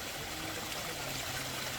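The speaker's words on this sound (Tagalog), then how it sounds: "Nilalagyan na ni Kuya Boyet yung bladder natin" Cold mountain spring water runs steadily into a hydration bladder on a Sierra Madre trail, a continuous close trickling and splashing with no voices.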